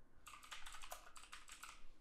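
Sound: typing a to-do item on a computer keyboard

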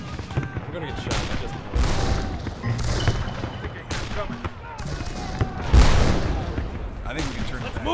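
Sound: Civil War musket gunfire in video game Darkest of Days

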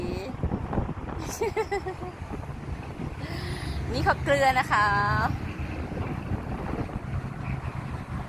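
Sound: strong wind blowing at a roadside sea salt farm

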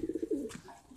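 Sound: pigeons cooing

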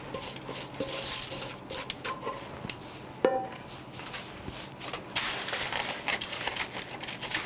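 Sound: packing salt crust around stuffed rockfish

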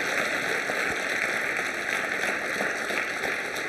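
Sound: audience applause

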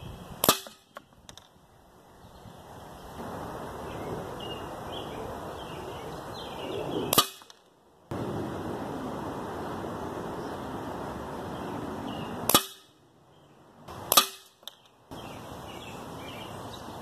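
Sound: Crosman 2400KT air pistol firing PBA pellets

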